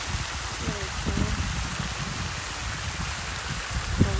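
A water fountain at Crystal Crane Hot Springs in Oregon splashes in a steady, even wash, with faint voices and a few small knocks in the background.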